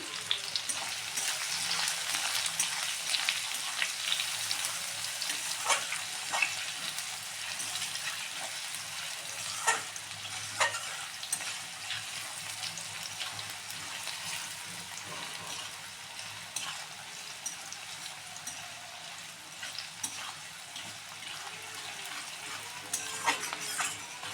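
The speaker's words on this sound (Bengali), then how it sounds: "এবার পেঁয়াজ কুচিটা দিয়ে দিচ্ছি লঙ্কা কুচি দিয়ে দিচ্ছি" Chopped onion and green chilli dropped into a hot pan for egg pasta, frying with a steady soft sizzle and hiss and occasional light clicks and scrapes throughout, no voices.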